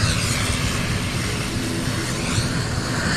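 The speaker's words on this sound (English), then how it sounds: "our own Windward Islands Airways local aircraft. ATR 42, the newest addition to the fleet of Windward Islands Airways" A Windward Islands Airways ATR 42 turboprop at an airport, its engines and propellers giving a steady, loud broadband roar that holds without a break throughout.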